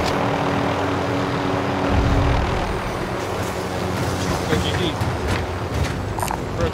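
A helicopter in the game Warzone thrums steadily with a loud, constant rotor and engine roar under game effects, and people are talking over it.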